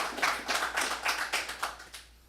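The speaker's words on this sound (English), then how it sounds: "I'd like to give you guys a round of applause for graduating this 10-week program." Brief applause for graduates of a 10-week executive protection training program comes as a quick run of rhythmic claps, fairly close and moderately loud, fading out after about two seconds.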